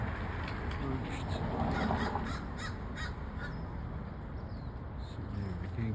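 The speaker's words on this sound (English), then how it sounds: "parrots up there." Parrots perched high in trees in Sherman Oaks give harsh, repeated squawks in a loose series, somewhat distant over a constant outdoor background hum.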